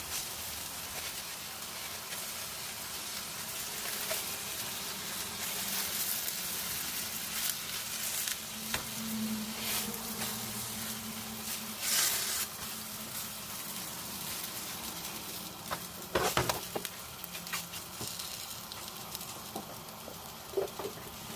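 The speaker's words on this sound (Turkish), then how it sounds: "yüksek ateşte böreklerimi kızartmayı bırakıyorum" Soft, steady sizzling and light popping of spinach börek pastries frying in hot oil in a pan over high heat, with occasional faint clinks.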